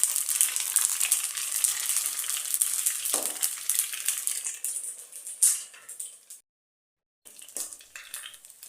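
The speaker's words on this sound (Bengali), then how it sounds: "ফুচকা ভাজা হয়ে গেছে" Fuchka puris fry in hot oil with a loud, dense sizzling hiss that fades in bursts, with a brief stir clatter partway through, a short silent gap, then sizzling again.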